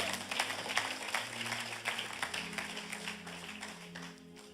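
Church congregation clapping and applauding to acclaim the Lord, a steady wash of many hands at moderate distance, tapering off toward the end.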